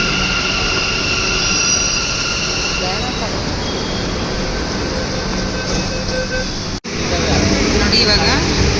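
A metro train runs along its track with a loud, continuous rumble and high wheel squeals, a brief drop in the roar near the end, and people talking under the noise.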